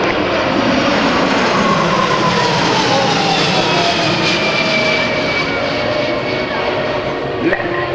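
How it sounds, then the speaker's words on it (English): A Boeing C-17 Globemaster III, a US Air Force transport jet, passes in a flyby at an air show, its loud sustained engine roar rising and sweeping overhead, with an announcer's voice faintly under it. "representing your United States Air Force, the Boeing C-17 Globemaster III"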